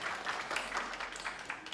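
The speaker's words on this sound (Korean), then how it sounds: "다시 한번 박수로 감사합니다" A congregation at a church youth service gives a round of applause, fairly faint and steady, with soft clapping bursts throughout.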